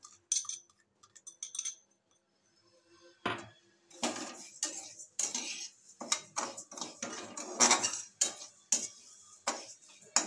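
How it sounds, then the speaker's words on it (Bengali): Moong dal dry-frying in a hot kadai (wok) for khichuri, with a spatula scraping and clinking against the metal pan in close, irregular bursts and short pauses, and no one talking. "প্রথমে আমি মুগ ডালটাকে ভেজে নেব।"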